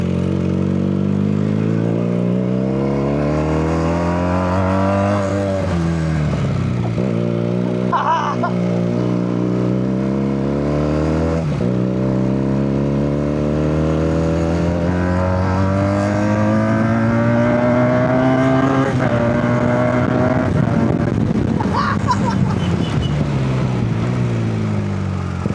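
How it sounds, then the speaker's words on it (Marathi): A vehicle engine strains loudly in a low gear while climbing a steep hill road toward Sinhagad fort, its pitch rising and falling with throttle changes over about 25 seconds, close and continuous. "गाडी कशी आहे तरी तिसऱ्या गेअरला चालवली"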